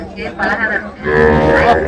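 Native Tamil cattle at Manapparai cattle market low loudly nearby, one drawn-out moo followed by a second longer bellow, with faint market chatter around them.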